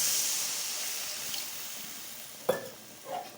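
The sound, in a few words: water poured into a hot pan for egg potato curry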